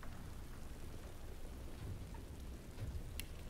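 Steady rain falls in Divinity: Original Sin 2, a soft continuous patter with low rumbling underneath, faint and even, with no voices.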